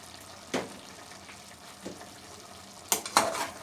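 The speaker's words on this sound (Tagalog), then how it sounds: "Haluin natin." Ginataang chicken wings with papaya, chili and black pepper stirred in a pan, a low steady sizzle broken by a few sharp spoon scrapes, two close together near the end, with no talking.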